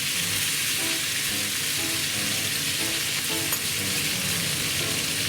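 Seasoning sauce poured into a hot skillet with chicken, a loud steady sizzle and fry hiss throughout with faint stirring clinks, no talking.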